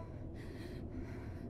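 The player character in the video game Maiden breathes heavily, giving rough, rasping gasps in the cold, close and continuous, with no talk.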